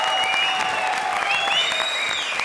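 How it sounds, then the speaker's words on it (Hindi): Loud, continuous clapping from a studio audience at a comedy show taping, a thick wash of applause with a few whistles and cheers riding above it throughout. "जोरदार इनके लिए गालियां नहीं तालियां।"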